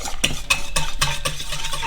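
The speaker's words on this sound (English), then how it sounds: "And then we're going to whisk before we add the flour." Wire whisk beating sugar and vanilla into beignet batter in a bowl, a steady run of quick, even scraping strokes at close range with no voices.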